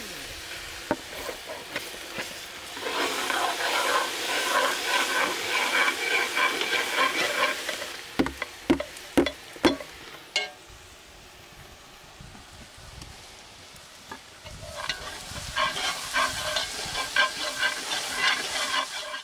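Melted sugar and grated coconut cooked in a pot over a wood fire for Belizean tableta, heard as steady sizzling and scraping from stirring, broken midway by a few sharp knocks before the stirring picks up again.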